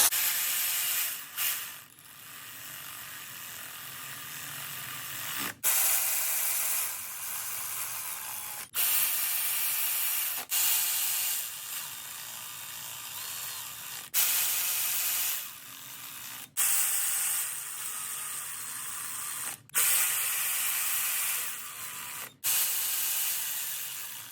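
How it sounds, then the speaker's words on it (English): Milwaukee electric ratchet running down cylinder head bolts on a BMW E60 M5 engine, a buzzing ratchet whir in about eight separate bursts with short pauses between, close and fairly loud, no talking. "we'll use our Milwaukee electric ratchet, and we'll kind of just bottom them out."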